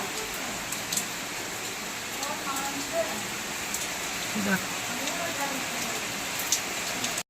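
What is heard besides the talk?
rain falling outside in the morning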